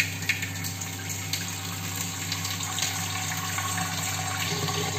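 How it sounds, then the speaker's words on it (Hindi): Water being poured into a washed, dried clay matka, a steady continuous gushing trickle at close range, fairly quiet and alone with no talk. "मैंने इसको वॉश करके वापस पानी इसमें डाल रही हूँ।"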